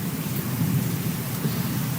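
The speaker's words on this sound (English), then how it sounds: "The thunder was so loud." Thunder playing as a test sound in a game engine, a loud, steady low rumble with a hiss like rain over it, continuous and without voices.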